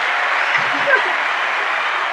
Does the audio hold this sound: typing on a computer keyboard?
no